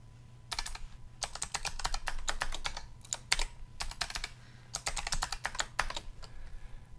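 Password being typed on a computer keyboard in rapid bursts of close, crisp key clicks, with short pauses between runs of keystrokes over a low steady hum.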